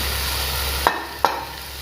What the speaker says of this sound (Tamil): கேரட் போட்டு எல்லாத்தையும் நல்லா வதக்கலாம்.